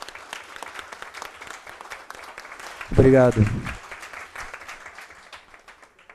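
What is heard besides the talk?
audience applause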